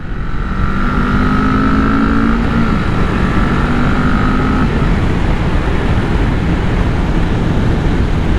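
Kawasaki Vulcan 650 motorcycle, a 2016 model with an aftermarket gear indicator, riding at speed with a loud steady engine drone, rising whine tones, then a shift as the pitch drops, all under heavy wind rush.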